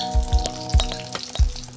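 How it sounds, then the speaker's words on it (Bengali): Eggs fry lightly in a kadai, the steady sizzle of hot oil broken by three or four dull knocks of a spatula turning them, close and clear with no voices. "হালকা লাল করে ভেজে নেব।"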